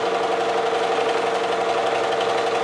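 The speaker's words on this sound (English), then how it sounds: "I'm going to place it on the sewing machine and sew it down the entire right side" A sewing machine runs steadily while stitching quilt strips down one long side, its motor humming close and continuous with a fine mechanical buzz and no pauses.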